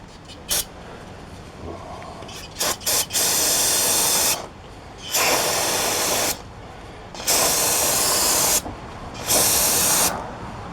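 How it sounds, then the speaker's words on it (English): Aerosol brake cleaner sprayed onto the back side of new brake parts during a Chevy Silverado brake job, several loud close bursts of hissing spray, a few short and others lasting about a second or more, separated by quieter pauses. "We'll hose down the backside too,"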